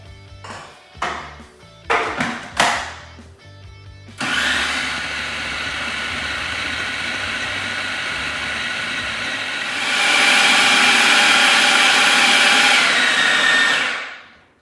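A food processor whirs through vegan shortbread mix, starting with several short loud pulses before running continuously, growing louder and harsher for the last few seconds and then stopping, with no talking.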